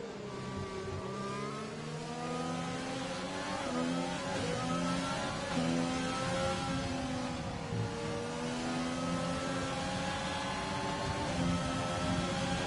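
Formula One cars in F1 2020 on the Singapore street circuit, including a Renault and a Racing Point, scream past with high revving engines and shifting pitch, several cars overlapping close together throughout.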